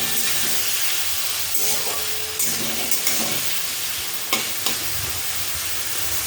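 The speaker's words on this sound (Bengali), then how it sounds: "এবার চিংড়ি মাছটা ভেজে নেব।" Shrimp coated with salt and turmeric frying in oil in a wok, a steady broadband sizzle and hiss throughout with a few louder crackles and stirring scrapes, close and fairly loud, no talking.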